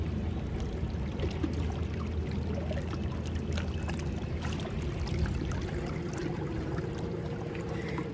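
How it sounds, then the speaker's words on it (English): Ocean water washes and trickles steadily at a shoreline during a vanlife break, a soft continuous rush at moderate loudness, with faint mechanical sounds of a moving crane behind it. "let's just take a few moments of hearing this beautiful water"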